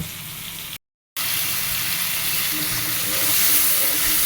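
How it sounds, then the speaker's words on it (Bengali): Spice paste sizzles steadily in a hot pan as it is sautéed in water, the hiss loud and continuous apart from a brief cut to silence early on. "জলের ভিতর গুলে রাখছিলাম, এখন সেটা দিয়ে মশলাটা কষে নিব।"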